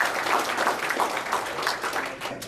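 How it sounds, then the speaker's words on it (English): Audience applause at a Windows Phone user group meeting, a steady wash of many hands clapping at moderate loudness through the whole stretch. "So a big round of applause for all these sponsors."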